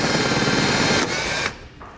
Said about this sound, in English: we're going to take a small drill bit and we're going to drill out the center of the rivet that's in each bottom corner of the fascia